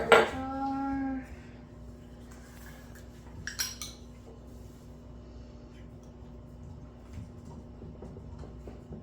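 Glass jars of homemade comfrey balm clink against one another in a brief cluster of bright, ringing knocks at the start, then a few lighter taps follow amid quiet room tone.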